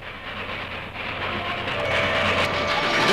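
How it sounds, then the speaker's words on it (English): A passenger train to Calcutta runs on its tracks in a steady loud rumble with rolling wheel noise, continuous and close throughout, with no voices. "with the Calcutta train running on schedule"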